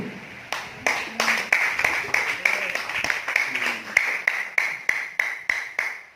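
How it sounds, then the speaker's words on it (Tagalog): A church congregation claps in a steady, evenly spaced rhythm, each clap bright and distinct, continuing throughout with a faint voice beneath. "Huwag po natin kuruputan ng palakpak ang Panginoon."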